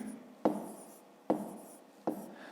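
Handwriting numbers, three quick pen strokes scratching on paper, each starting with a sharp tap and fading, close and quiet with no talk.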